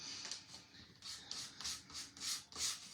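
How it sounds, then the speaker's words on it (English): Hand sanding across the flat surface of a wooden Easter cross cutout, a series of soft rhythmic rasping strokes, close and fairly quiet, about six passes with no talk. "I'm just gonna sand the surface, the background that I'm gonna be gluing everything to"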